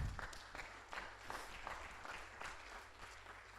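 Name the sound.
audience applause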